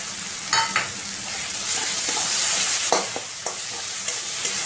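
Roasted cumin and coriander powder is stirred into a frying spice mix with chilli powder and turmeric, giving a steady close sizzle with several sharp scraping stirs.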